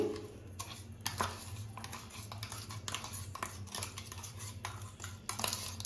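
Finely ground homemade herbal powder is scraped and tipped into a large pot, with soft repeated scraping and light metallic clinks at close range, no talking.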